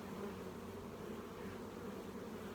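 Honeybees from a hot, defensive hive under restoration hum in a faint, continuous drone, steady and without pauses.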